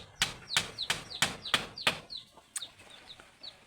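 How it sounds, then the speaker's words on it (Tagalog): Chickens cluck in a quick, steady series of loud, close calls, with a few fainter chick peeps in a farmyard where hens and chicks are kept. "Marami kayong alagang manok."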